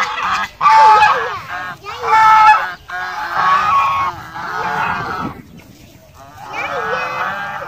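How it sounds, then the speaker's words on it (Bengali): Geese honk loudly and repeatedly in a rural yard where chickens are also kept, with bursts of close, brassy calls separated by short pauses. "দেখেন রাজহাঁসকে ডাকছি"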